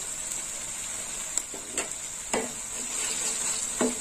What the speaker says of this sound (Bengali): হলুদটা এর সঙ্গে ভাজা হোক।